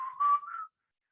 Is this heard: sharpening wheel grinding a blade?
no